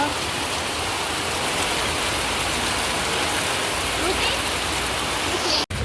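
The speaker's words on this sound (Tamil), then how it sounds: "இந்த மழையில் வந்து நனைஞ்சிக்கிட்டு இருக்கிறது தெரியும்" Rain pours down steadily and heavily, a dense, even patter of drops on surfaces that holds without pause from start to finish before cutting off abruptly at the very end.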